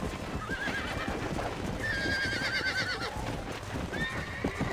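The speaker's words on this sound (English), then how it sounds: "Seguramos o cavalo." Wild horse in Red Dead Redemption whinnying in several rising, wavering calls over continuous hoof clip-clop and rustling game ambience, loud and close.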